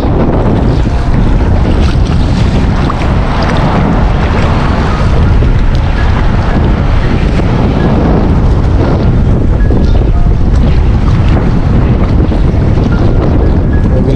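Strong wind roars and buffets the microphone continuously, with a constant low rumble and rushing noise, like gusts over open water.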